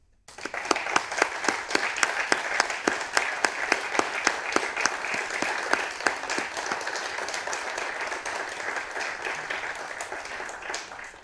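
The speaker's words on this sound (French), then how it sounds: "Je vous propose de les applaudir." Applause from the audience at a town council meeting for a mayoral election, steady dense clapping with a few sharper individual claps, lasting about eleven seconds and slowly thinning toward the end.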